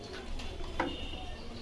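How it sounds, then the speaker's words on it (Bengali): Kashmiri pigeons at a pigeon seller's loft in Bogura coo softly in a short, faint burst with a single low throaty note, amid quiet background bustle. "কাশ্মীরি কুমার কবুতর।"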